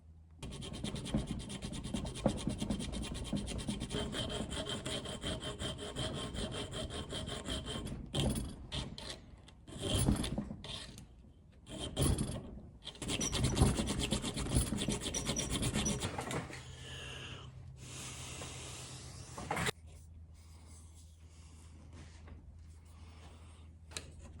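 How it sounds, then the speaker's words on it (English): A hand file rasps back and forth on scrap steel being shaped into a dagger, long steady strokes followed by choppier intermittent scraping and quieter pauses, close and alone. "So you just got to file it out or cut it out."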